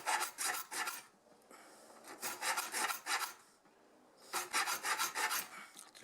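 A wedge-angled hand file is drawn along a blade edge to sharpen it. Loud, quick rasping strokes come in three close-up bursts separated by short pauses.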